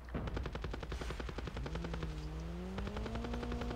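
Rapid automatic gunfire in a Call of Duty battle royale match, dense evenly spaced bursts of shots close by, with a droning engine hum rising underneath, loud and without speech.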